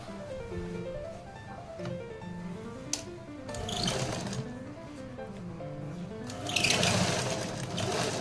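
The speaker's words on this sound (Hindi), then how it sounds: "इस लाइनिंग को इस तरह से सिलाई कर लेंगे।" A sewing machine stitches a pouch lining with a steady mechanical whirr that rises and falls in speed, ending in a brief burst of louder rustling.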